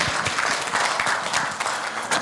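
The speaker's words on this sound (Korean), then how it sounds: "이런 박수 부탁드립니다." Audience applause at a seminar, a steady wash of many hands clapping throughout, fairly close and dense with no talk over it.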